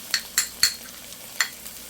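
A spatula stirs chili, coriander and cumin into vegetables and fried prawns in a hot pan, four or five sharp scraping strokes over a soft sizzle, close and alone.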